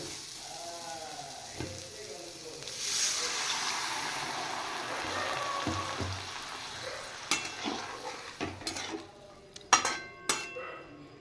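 Water goes into a pan of sizzling chickpea curry, raising a steady hiss of frying that settles down, followed by metal utensil scrapes and clinks against the pan as it is stirred, close and moderately loud.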